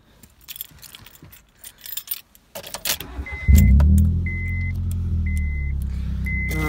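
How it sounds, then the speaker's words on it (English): A Honda Civic EP2 engine cranks over and fires up, settling into a loud, steady idle close by after some handling noises and clicks. "I'm going to start the car up."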